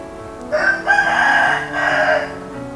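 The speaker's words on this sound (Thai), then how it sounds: "ที่วัดจะมีเสียงไก่แบบนี้ ไก่ไม่เคยขาดที่วัด ไก่แจ้ฮะ ไก่แจ้ ไก่โต้ง" A bantam rooster at a Thai temple gives one loud, close crow, a long drawn-out call that rises and holds before trailing off.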